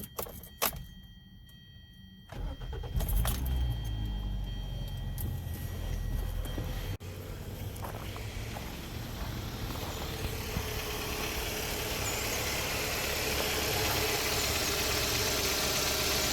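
A 2013 Hyundai Sonata engine cranks and catches after a brief quiet moment, then settles into a steady, low idle that runs on evenly.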